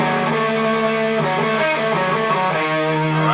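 A distorted electric guitar rings out a near-diminished triad built on a flat third and root, sustained with several restrikes and slight bends across a few seconds, loud and alone.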